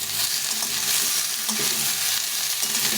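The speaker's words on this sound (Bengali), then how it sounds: "এই টমেটোটা দিয়ে দেবো দিয়ে এটাকে একটু ভেজে নেব" A tomato fries in an oiled pan as part of a cauliflower dish, giving a steady, close hissing sizzle with faint crackles and no talking.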